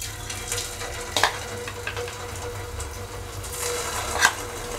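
Potato wedges sizzling and crackling in hot oil over low heat, a steady frying hiss with a few sharper pops.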